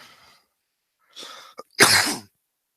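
A few harsh coughs close to the mic, separated by pauses, ending in one loud, forceful cough.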